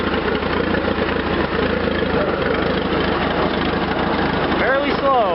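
A Farmall Regular tractor runs steadily in first gear, its low engine chugging close and loud, with a rising whine near the end.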